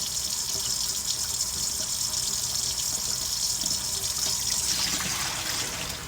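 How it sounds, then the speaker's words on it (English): Cold water runs steadily from a kitchen tap into a sink while cooked spaghetti is being drained, a continuous close hiss and trickle that softens slightly at the end, with no talking. "I always go ahead and get my cold water going"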